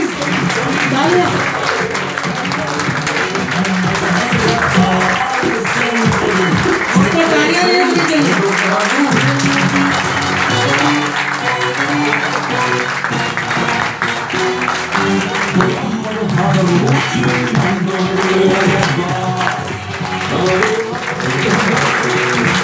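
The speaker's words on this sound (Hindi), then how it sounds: "प्लीज तालियां।" Applause from a seminar audience at a Gladwin Life company event as a leader is welcomed. Loud, continuous clapping runs throughout, with music and voices layered beneath it in a busy hall.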